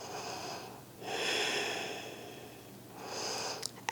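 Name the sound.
breathing during a yoga stretch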